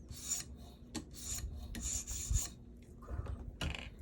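An Ozark Trail $10 Walmart knife is sharpened in short, close raspy strokes against an abrasive, each pass a gritty scrape with brief pauses between, quiet and with no voices.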